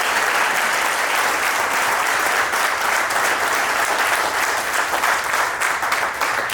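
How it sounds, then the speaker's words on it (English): A live audience at a fitness event panel breaks into sustained applause, dense steady clapping from many hands filling the room evenly and without a pause from start to finish. "Let's have one big round of applause for this panel"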